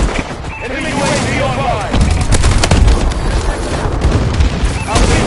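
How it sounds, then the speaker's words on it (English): Enemy bombing run and gunfire in Call of Duty: Advanced Warfare, loud dense battle noise of booms, explosions and rapid gunshots under radio-style game voices. "Enemy bombing run incoming."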